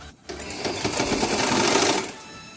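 A sewing machine runs steadily for about two seconds, stitching the outer side seam of a blouse, after a brief pause at the start. The whir is close, loud and continuous, with no talking.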